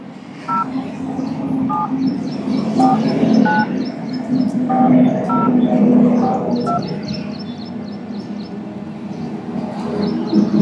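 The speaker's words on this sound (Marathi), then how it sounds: "लावतो मावशी, लावतो फोन नंबर" Rapid electronic keypad tones beep in short clusters as a phone number is dialed, over a steady background hum and some low chatter.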